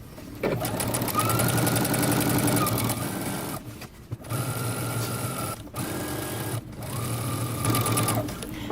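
A sewing machine stitches a jeans facing seam in three close bursts of rapid, steady mechanical rattling, separated by short pauses.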